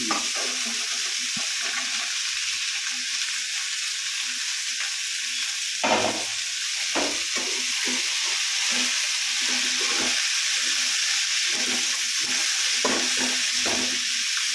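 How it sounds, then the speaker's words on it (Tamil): Tomatoes and asafoetida frying in a pan give a loud, continuous sizzle, broken by the scrapes and knocks of stirring, close to the listener with no talk. "இந்த தக்காளி போடுறேன் இந்த ஆறுகாயம் போடுறேன்"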